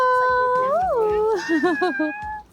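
A pitbull-like puppy on a farm lets out a long wavering howl that rises and falls, then breaks into shorter yelping howls before trailing off.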